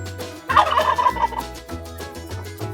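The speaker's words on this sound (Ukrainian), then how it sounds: "Індик." A turkey lets out a single rapid, warbling gobble, close and clear, with a steady low hum underneath.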